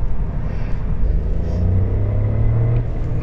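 Engine of an Audi A1 heard from inside while driving, a loud, steady low drone with a rising, revving tone partway through under continuous road rumble.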